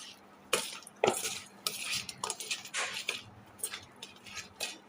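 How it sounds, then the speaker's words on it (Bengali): Fish being mixed by hand with chili powder and mustard oil in a metal bowl, with soft irregular squelching, scraping and clinking of utensils, close and moderately quiet, no voices. "এখন অ্যাড করে দিচ্ছি সরষার তেল এ আমি মাছটা সুন্দর করে মেখে নিচ্ছি"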